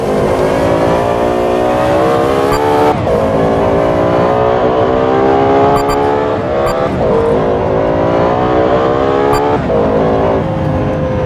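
A Lexus LFA V10 revs hard and loud and close, climbing through repeated rising sweeps with brief dips between gear changes, the engine note dominating throughout with no talking.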